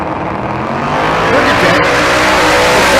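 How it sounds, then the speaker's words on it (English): A Camaro in the right lane at a Bandimere drag racing event, its engine a loud, dense roar that builds steadily and holds throughout, with a faint voice beneath it. "Dylan Carroll in the right lane. The Camaro."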